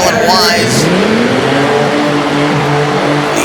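Tough truck engine roaring and revving hard at an off-road tough truck race in Harrisburg, Pennsylvania, loud and continuous with rising pitch sweeps, a announcer's voice talking over it.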